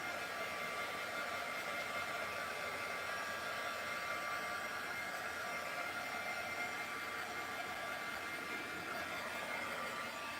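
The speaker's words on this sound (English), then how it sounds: "When you're using your heat guns, make sure you keep them moving" A heat gun drying paint on coastal decor runs as a steady, even blowing hiss for the whole stretch, close and alone with no talk.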